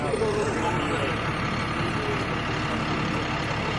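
A truck hauling shipping containers of imported Japanese cars rumbles close by in a steady, loud, dense engine drone with no clear pauses, and faint voices mixed underneath.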